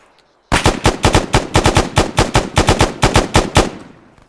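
Arma 3 video game gunfire from an AI soldier moving and shooting, with a loud, close run of rapid automatic shots in uneven bursts that rings out briefly after the last round.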